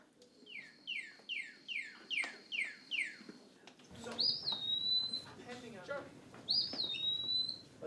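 Bird calls played for a third-grade classroom lesson on sound, pitch and volume: a quick run of about seven descending chirps, then two clear rising-and-falling whistled calls over background murmur.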